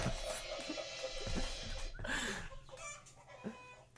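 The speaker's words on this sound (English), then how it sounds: "That's just a chicken, Thomas." Chickens cluck close by in a farm setting, a run of short calls and squawks over steady background noise, with no one talking.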